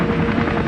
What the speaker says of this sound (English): Attention attack helicopters! Activate the full-scale invasion of Tromaville!